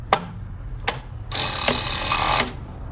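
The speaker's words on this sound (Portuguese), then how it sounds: "vou apertar o P para confirmar e vou costurar. Vamos ver a sobra que ela vai deixar." A Jack C4 overlock sewing machine stitches a fabric scrap, giving short rattling bursts followed by a steady, loud whirring run close by.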